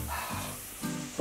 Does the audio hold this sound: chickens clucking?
no